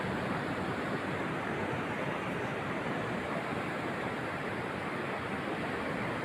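Sea waves at the shore make a continuous, even wash of surf with no clear breaks, steady and moderately loud throughout.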